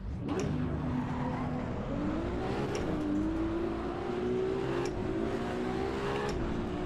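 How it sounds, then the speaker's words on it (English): Racing car engine in the Assetto Corsa EVO video game with a throaty V8/V12-like tone, droning steadily and close, its pitch sweeping upward through gear changes with faint tyre noise. "Sounds almost like a throaty V8 mixed with a V12."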